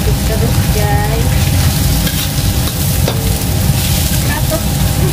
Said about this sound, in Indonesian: Aduk terus guys.